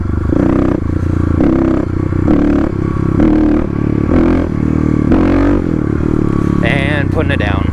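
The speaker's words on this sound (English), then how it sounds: "So getting the front wheel up, pop it up." A Kawasaki KLX351 dirt bike with its airbox lid removed revs in loud, pulsing bursts as the front wheel lifts into a wheelie, recorded close with wind buffeting, and a rider talks over it.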